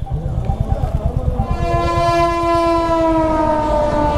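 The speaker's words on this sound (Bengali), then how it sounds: "যোগনগরী ঋষিকেশ এক্সপ্রেস, এটা ঋষিকেশ যাচ্ছে।" Yoga Nagari Rishikesh Express from Howrah passing close by, a rhythmic clatter of wheels over rail joints giving way to a long, loud horn blast that holds to the end.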